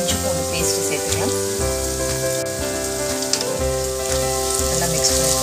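Ginger garlic paste frying with green chilies and onions in oil, a steady fairly loud sizzle with stirring, accompanied by background music.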